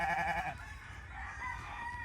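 Farm chickens cluck and call close by, a drawn-out crow-like note at the start followed by softer clucking over a steady low background, without any talking.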